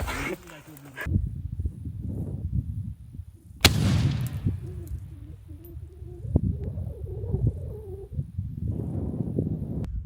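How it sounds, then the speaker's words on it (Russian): An RGD-5 fragmentation grenade detonates on a firing range with a single sharp, loud blast midway, followed by a rumbling tail, while people talk nearby. "Граната РД 5 осколочна."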